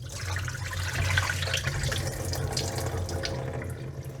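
Water drained from a glass jar of sprouting grains through a gauze-covered mouth, a steady close trickle and splash running without pause.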